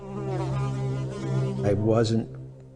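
A swarm of flies attacking a priest in a film makes a loud, droning, harmonic buzz that wavers and rises in pitch before cutting off abruptly.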